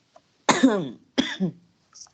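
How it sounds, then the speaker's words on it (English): Two sharp, close coughs about half a second apart, each with a rough tail, in a quiet room during a class, followed by a faint short sound. "I have a cough."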